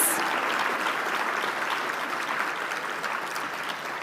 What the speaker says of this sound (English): let's give the real applause to Denise St. Omer, who is the board chair, outgoing.